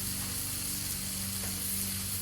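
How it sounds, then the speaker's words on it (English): Taco meat sizzles loudly and steadily on a hot 36-inch Blackstone griddle, a continuous crackling hiss with no talking. "Always want to make sure your grill is hot enough to hear that sizzle."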